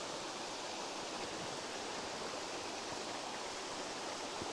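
South River Falls in Shenandoah, an 83-foot waterfall running at low flow, gives a steady, even hiss of falling water from its base, broadband and unbroken with no voices.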